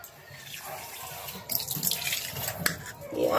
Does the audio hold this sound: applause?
no